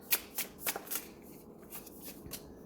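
Tarot cards being drawn and shuffled, a quick series of crisp riffling snaps and soft slides close up, about eight short bursts in an irregular rhythm with no talking.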